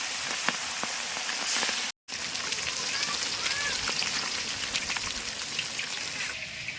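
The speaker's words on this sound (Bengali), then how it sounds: "মাছ ভাজা চলছে।" Pieces of katol fish frying in hot oil for a Bengali fish curry, giving a dense, steady sizzle and crackle close by, with one brief dropout and no talk over it.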